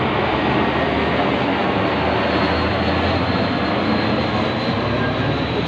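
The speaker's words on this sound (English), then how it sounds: "That's an army jet." An army jet flies overhead above a small dead-end street, a broad, loud, steady roar filling the whole clip without breaks or talk.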